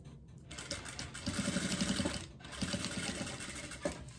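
A sewing machine stitches a fabric diaper holder in two quick runs with a pause between them, its rapid needle clatter close and fairly soft.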